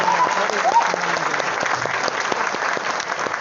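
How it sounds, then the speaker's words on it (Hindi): A crowd applauds steadily, dense clapping filling the room at close range, with a voice briefly audible over it. "एक बार जोरदार तालियां हमारे सभी मेहमानों के लिए"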